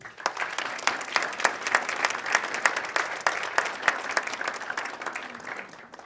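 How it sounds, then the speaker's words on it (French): An audience at an annual forum applauds a guest, steady dense clapping of many hands at moderate distance, alone without talk. "Je vous demande de l'applaudir."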